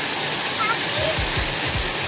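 Waterfall in a forest, a loud dense rushing hiss of falling water filling the whole span close by, with a voice briefly talking over it.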